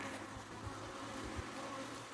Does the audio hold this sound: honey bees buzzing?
yes